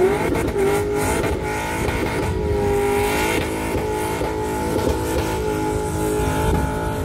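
Cars rev hard at a Powercruise car event, with loud, close engines rising and falling in repeated throttle blips and sustained roaring, layered over a constant background of other motors.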